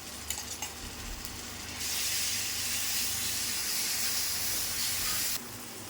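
Green chillies and garlic dropped into a pan of fried onion give a loud, close sizzling hiss that swells sharply after a couple of seconds, holds steady, then eases off near the end.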